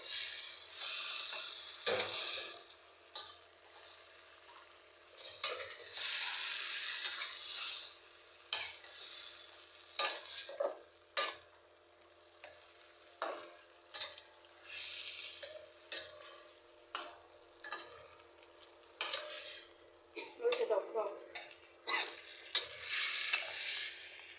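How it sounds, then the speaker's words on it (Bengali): Fish and fenugreek leaves being sautéed together in a pan: bursts of hissing sizzle alternate with rhythmic metal scraping and clinks of the spatula, stirred in repeated rounds with short quiet gaps between. "এখন মেথি মাছ একসাথে কষাবো।"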